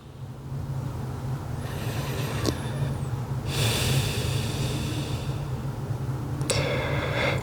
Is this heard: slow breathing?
yes